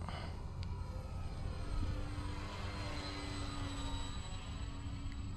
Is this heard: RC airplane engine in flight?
yes